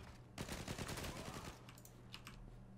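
Fast bursts of automatic gunfire in a video game, a loud rattling volley in the first half trailing off into a few scattered, quieter shots, with faint keyboard clicks underneath.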